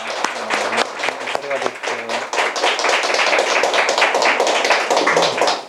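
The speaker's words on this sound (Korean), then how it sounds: "박수로서 환영해 주시기 바랍니다." A group at a church orientation session claps to welcome a newcomer, starting with a few scattered claps among voices and swelling into steady, close applause that carries on to the end.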